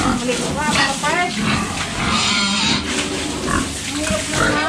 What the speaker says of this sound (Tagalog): Paliguan tayong baboy guys.